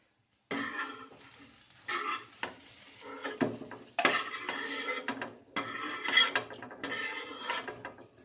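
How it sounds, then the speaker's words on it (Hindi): A cooked omelet is scraped out of a pan onto a plate with a home breakfast of parathas and tea, giving a series of close, rasping metal scrapes and clinks in short bursts with no talking. "अभी मैं इसको प्लेट में निकाल लेता हूँ।"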